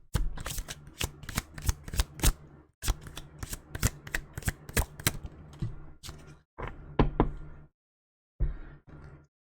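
Tarot cards are riffled and shuffled by hand, close and crisp, in quick bursts of rapid flutters separated by short pauses and a few lone slaps as cards are drawn.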